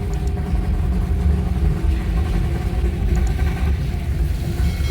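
Steady low engine rumble from inside a car being driven, a continuous droning hum with road noise and no talking.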